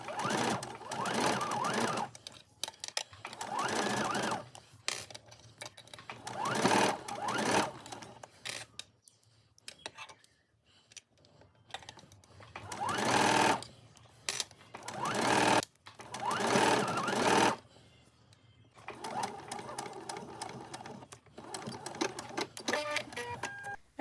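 A home sewing machine stitches a neckband onto a garment, in several bursts of fast, steady needle chatter separated by short pauses, close and clear with no talking.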